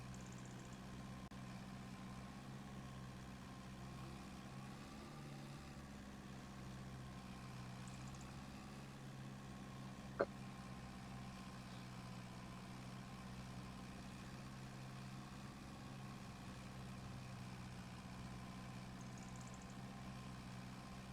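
An old tractor's engine idles in Farming Simulator 25, a low, steady droning hum with faint harmonics, quiet and unchanging throughout, with one brief click midway.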